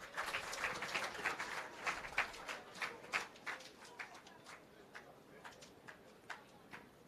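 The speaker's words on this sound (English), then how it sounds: "Please give Mr. Dunkley a round of applause" A small audience claps for Mr. Dunkley at an outdoor irrigation project launch, scattered individual claps that are fairly distant and thin out gradually over several seconds.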